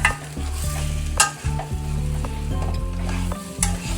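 Mutton sukka dry-roasting with masala in a pan, with a loud ladle scraping and stirring rhythmically over a steady sizzle and a few sharper metallic knocks, close up and without speech.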